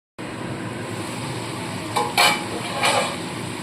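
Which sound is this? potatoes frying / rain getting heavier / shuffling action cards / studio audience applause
potatoes frying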